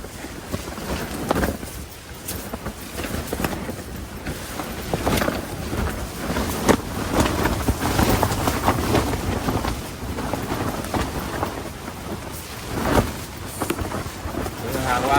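Storm wind with rain battering a tent at a campsite beside a border forest, strong enough to snap a tent pole. Loud, steady roaring gusts buffet the mic throughout while someone talks over them.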